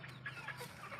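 Native chickens clucking inside a poultry shed, several birds giving short, overlapping clucks at close range with no talk over them.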